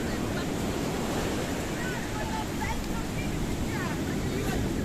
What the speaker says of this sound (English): She saw the wave coming and she legged it